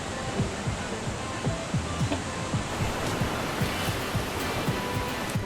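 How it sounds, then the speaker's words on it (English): Steady, dense rush of falling water at Gabaldon Falls, Nueva Ecija, Philippines fills the scene, a continuous broadband roar with no voices, close and fairly loud throughout. "This is waterfalls."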